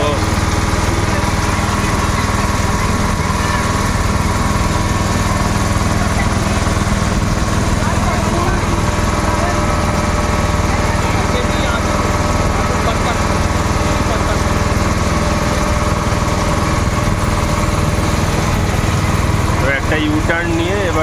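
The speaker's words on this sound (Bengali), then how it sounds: "একটা ইউটার্ন নিয়ে এবারে আবার আমাদের নৌকাটা ঘুরে গেল" A motorboat engine running during a river boat ride, a loud steady droning buzz that stays constant throughout, with a voice talking over it.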